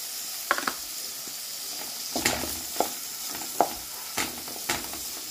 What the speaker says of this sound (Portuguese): Eu estou dando uma refogadinha aqui na linguiça calabresa. Já está refogando.